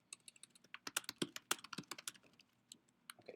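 Someone types on a computer keyboard, a quick irregular flurry of crisp key clicks with short pauses, close and clear, then a few last taps after a brief gap.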